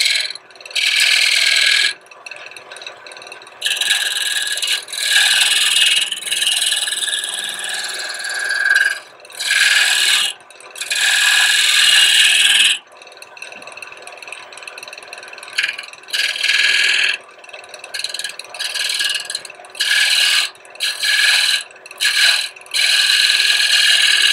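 A wood gouge cuts the bottom of a turned wooden box on the lathe, giving loud, gritty scraping bursts that start and stop repeatedly, with short pauses between passes and no talking.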